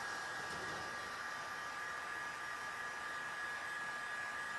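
A heat gun gently warming the outside of a patch on an inflatable boat puncture repair, giving a steady, continuous blowing hiss with a constant tone throughout, close and fairly quiet, with no talking.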